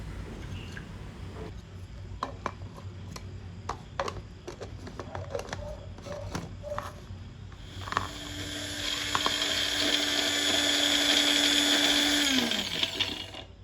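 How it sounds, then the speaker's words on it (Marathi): Kitchen clicks and taps give way to a mixer grinder blending garlic and ginger into paste for chicken pulav, a loud, steady high-pitched motor whine that runs for several seconds, then winds down as it switches off. "त्यासाठी मी आधी लसूण आणि आले मिक्सरमधून फिरवून घेणार आहे"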